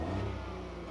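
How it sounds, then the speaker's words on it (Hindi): A 2024 Maruti Suzuki Swift with a 1.2 litre engine running just after being started, giving a close, steady mid-pitched hum with a low throb that holds briefly with no talk. "so let me fire up the engine of this all new Swift"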